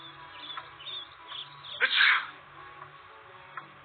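One person sneezes sharply once at mid-clip, a loud burst standing out over faint background sounds and soft murmurs.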